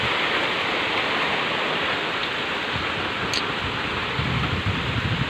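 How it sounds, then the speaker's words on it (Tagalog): Heavy rain from Typhoon Ulysses pouring down near a house, a loud, dense, continuous roar of water with no pauses, close by and filling the whole stretch, with no voices. "Lakas ng ulan."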